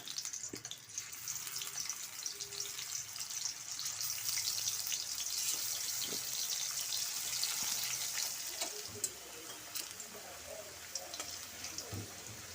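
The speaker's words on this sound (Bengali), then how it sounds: "এবার মিষ্টি কুমড়োগুলি ভেজে নেব।" Sweet pumpkin pieces fry in oil in a wok, with a soft, steady sizzle and scattered crackles and light stirring clatter nearby, fairly quiet throughout.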